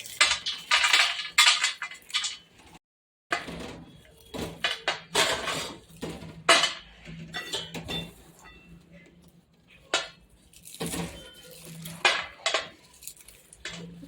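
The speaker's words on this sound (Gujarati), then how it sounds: "બે હાથે આપણે આવી રીતે મહળશું એટલે બધી ફોતરી મસ્ત નીકળી જાય છે." Roasted peanuts rubbed between two hands to strip their skins, giving close, dry crunchy rustling in repeated bursts with brief pauses and a short silent gap.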